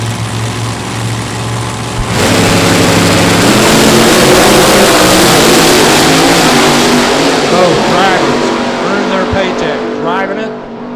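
A drag race car at Byron Dragway launches with a sudden deafening roar, its engine screaming hard and steady down the strip for several seconds before fading slightly near the end, loud and close.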